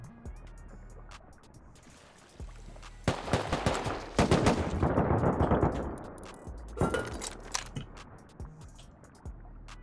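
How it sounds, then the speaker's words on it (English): Gunfire in the survival game Rust, heard while out on the water: scattered distant shots give way to a louder burst of rapid overlapping fire in the middle, then a few more bursts trailing off. "Why is everybody shooting me"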